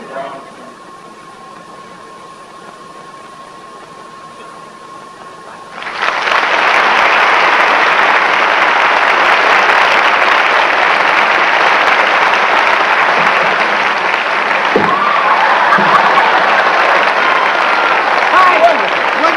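Studio audience applause on a 1965 Hollywood variety show bursts in after a quiet stretch with a faint voice, then holds loud and sustained to the end.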